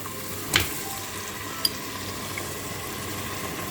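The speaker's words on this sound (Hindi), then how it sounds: "इसके अंदर गोश्त ऐड करते हैं और इसको हम मिक्स करते हैं।" Meat stirred into a frying pan for Afghan kachalo qorma with green peppers, a low steady sizzle broken by a sharp scrape of the spoon and a brief clink.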